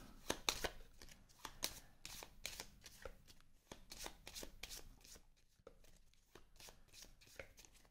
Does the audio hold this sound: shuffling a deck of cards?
yes